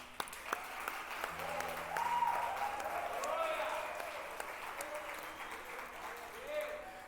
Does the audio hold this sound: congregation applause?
yes